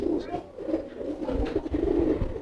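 A carrier pigeon coos close by in a series of soft, low, throaty murmurs that rise and fall, with faint rustling and background noise around it.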